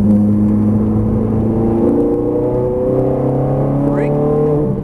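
A Ferrari F430 Scuderia's engine pulls hard under full throttle on a racetrack, its steady roar climbing in pitch through the gears, loud and continuous, with an instructor's voice talking over it.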